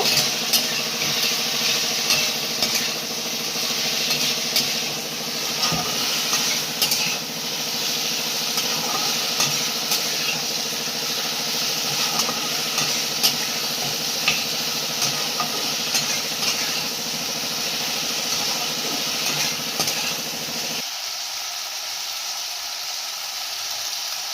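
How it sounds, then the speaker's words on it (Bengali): Okra being stirred with salt in a hot frying pan for a mustard-based Bengali dish, a steady, close sizzle with scraping stir strokes running throughout, the low rumble dropping away near the end. "নুনটা দিয়ে আবার একটু এটাকে নাড়াচাড়া করে দেব"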